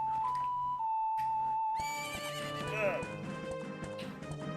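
A horse named Epona in a Zelda video game gives a whinny rising over steady music and hoofbeats, close and clear, while a person talks briefly over the game audio.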